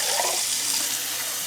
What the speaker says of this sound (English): Just trying to rinse out the tomato sauce that was left in there.